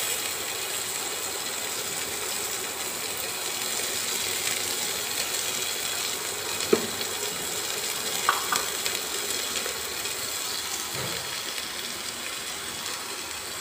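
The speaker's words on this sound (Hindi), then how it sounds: "प्याज जब तक फ्राई हो रहा है" Green onion frying in oil for a moong dal tadka, a steady soft sizzle that runs the whole time with a few light clicks of a utensil against the pan.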